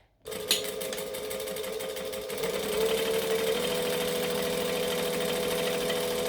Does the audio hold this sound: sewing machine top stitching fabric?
yes